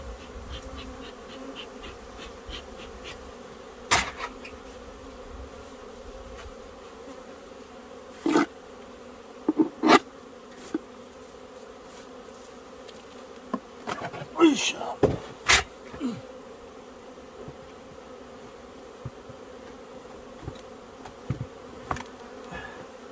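Honeybees at an open hive drone in a steady, continuous buzz throughout, with occasional nearer bees passing close and sharp handling knocks and clatters breaking through at intervals.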